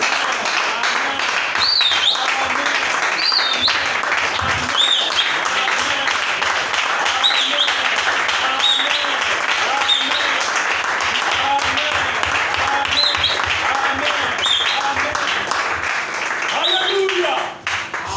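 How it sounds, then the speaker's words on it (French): A church congregation cheering and acclaiming loudly during a sermon, with sustained crowd shouting and clapping throughout, and a voice speaking over it, fading briefly at the end. "nous acclamons très très fort pour la photo de l'ange"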